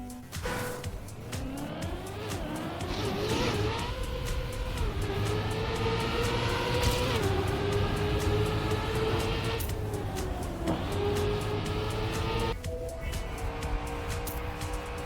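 A game car races around a Trackmania track, its engine droning loudly and steadily for the whole stretch, the pitch rising and falling with gear shifts and speed changes, with no voices over it.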